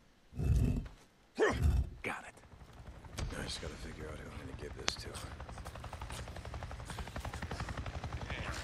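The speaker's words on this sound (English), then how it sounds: "I just saw a goddamn chopper!" Helicopter in the video game Days Gone, a steady rotor drone that builds from about three seconds onward and keeps going, following a couple of loud bursts near the start.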